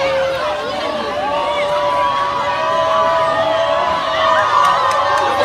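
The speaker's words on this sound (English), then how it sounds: "I think they are booing the judge here." A crowd booing a judge, a dense sustained roar of many voices with shouts rising above the din, loud and continuous throughout.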